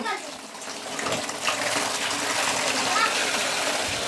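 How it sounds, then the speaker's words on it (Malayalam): Water pours steadily into a bucket, a continuous gushing splash that holds at an even level throughout, close by with some faint background activity. "നമുക്ക് വെള്ളം കുറച്ച് നിറക്കാം"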